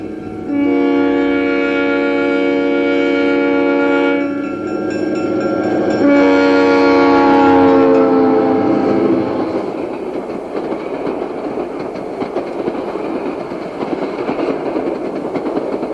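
Two Grand Trunk Western diesel locomotives heading an eastbound train rumble past as a loud, chord-like train horn sounds twice, followed by the clatter and roar of the passing train.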